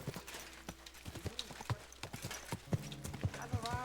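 Horse hooves clip-clop in the video game Kingdom Come: Deliverance II, a steady walking rhythm of distinct close hoof strikes with a low snort or whinny mixed in.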